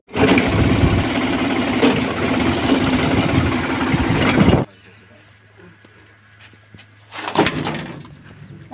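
A tractor engine runs loud and steady, then cuts to a faint low idle hum before briefly swelling again near the end, with voices in the background.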